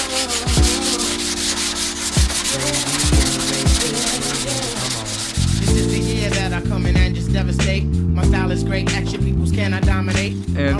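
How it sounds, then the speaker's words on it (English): Bondo body filler being sanded on a car fender of a Soarer, a steady continuous abrasive rubbing with rhythmic strokes, close and loud, shifting in pitch partway through. "keep in mind when I'm sanding that"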